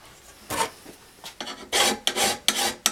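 A hand file rasps across a lawnmower blade being balanced, several uneven strokes close by, getting longer and louder toward the end with short pauses between them.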